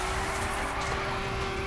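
An off-road class car driven in the racing game The Crew, giving a steady, continuous engine drone with a faint constant whine over broadband road noise, with no gaps.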